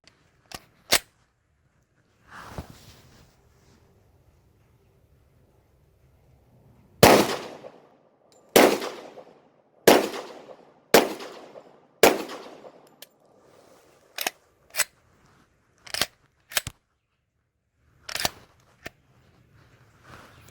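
A 10mm Polymer 80 pistol with a 22-pound recoil spring fires Underwood 200 grain hard cast rounds, about a dozen loud sharp outdoor reports, first spaced out and then in a quicker string, each with a short echoing tail.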